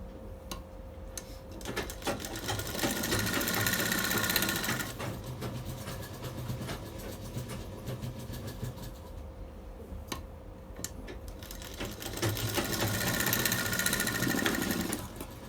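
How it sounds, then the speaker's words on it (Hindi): A sewing machine stitches piping onto fabric in two loud, rapid bursts of close mechanical chatter, with quieter ticking and handling of the cloth in between. "सारी पाइपिंग के जितने भी पॉइंट है सब पर सिलाई लगा लें।"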